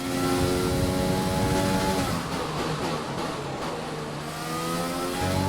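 Engine of an F1 2020 race car in the video game, accelerating with a loud, steady rising whine whose pitch climbs, dips briefly as it shifts, and climbs again.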